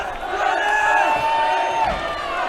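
A home crowd at a boys' varsity high school basketball playoff quarterfinal, Frisch Cougars against HANC Hurricanes, chants "Let's go Hank" in loud unison. Many voices hold the chant steadily throughout.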